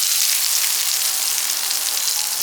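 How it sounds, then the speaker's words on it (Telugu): Hot tempering with asafoetida tipped onto coconut and raw mango chutney, a bright, dense, close sizzle crackling evenly for a couple of seconds without any voices. "ఆ తాలింపు సెక్షన్ అంతా కూడా మనం కొబ్బరి పచ్చడి వేసేద్దాం"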